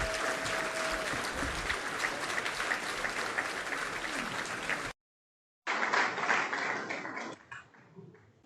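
Dense applause from a crowd at a sports dinner fills the room, a long loud stretch broken by a short silence, then another burst that tapers off.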